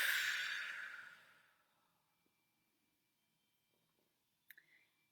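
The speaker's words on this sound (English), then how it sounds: "So just taking some nice deep belly breaths at first." One long, deep belly exhale of breath, close and soft, fades away over about a second and a half. Near-silence follows, then a faint click.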